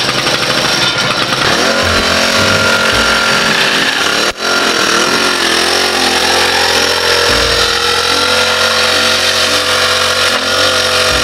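A small engine, just started with one pull of the cord, runs loud and close with a rough buzzing drone that rises and falls slightly in pitch.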